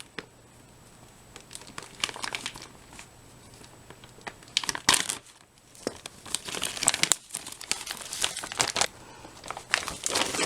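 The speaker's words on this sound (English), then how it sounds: "well, I can't peel it, so this is quite a sturdy bag." A sturdy plastic bag holding a 2017 Sopakco Apple Maple Rolled Oats ration is handled and crinkled, giving irregular bursts of sharp crackling, some loud and close, others softer, with quieter gaps between.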